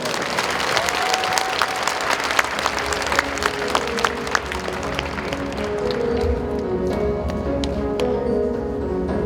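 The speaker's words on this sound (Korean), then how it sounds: "박수로 맞아주시기 바랍니다" A crowd at a centenary commemoration ceremony in a large hall applauds at length, a dense, steady wash of clapping that gradually thins and softens toward the end.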